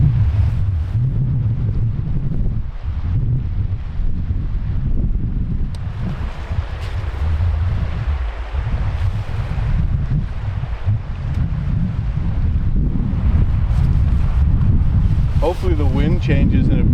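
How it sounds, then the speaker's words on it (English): Strong wind buffets a microphone at a Yukon wilderness campsite, a continuous loud low roar with gusty surges throughout and a few faint higher sounds near the end. "Well, it's pretty windy"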